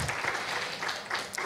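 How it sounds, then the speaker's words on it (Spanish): An audience at a university ceremony for Journalist's Day applauds a professor, a steady wash of many hands clapping at moderate loudness for the whole moment. "un aplauso para el profe Avendaño"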